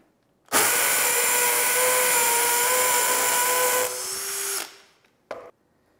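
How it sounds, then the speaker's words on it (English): A DeWalt hammer drill bores into masonry in hammer action at speed 2, a loud continuous rattling whine lasting several seconds, dropping in pitch near the end before stopping, then a brief final burst. "Tighten the chuck up, turn it to the hammer action icon, and you're ready to go."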